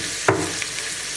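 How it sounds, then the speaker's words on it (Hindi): Onion and ginger frying in a pan for sarson ka saag, a steady close sizzle with one sharp clatter of a utensil early on, no talking. "प्याज को अच्छे तरीके से आपने पका देना है"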